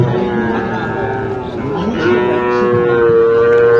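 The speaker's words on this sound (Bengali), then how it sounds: "এখানে একটি গরু দেখা যাচ্ছে" Cattle at Mataji Hat livestock market in Naogaon low loudly with a long, sustained moo that rises in the second half, heard close and clear over a busy market background.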